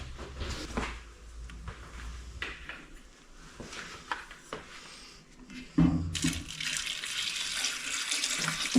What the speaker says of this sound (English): I don't want to add too much water